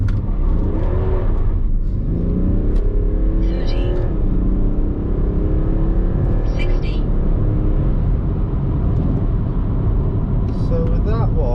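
A remapped BMW F31 330d estate with the N57 diesel launches hard from standstill, its engine droning loudly with rising pitch through the gears as the car pulls away, heard from inside the cabin with faint voices.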